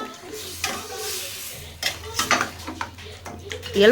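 A spoon stirs yogurt and lemon juice into a mint chicken gravy, clinking and scraping against the pan in uneven bursts over a low hum, with faint sizzling in the background.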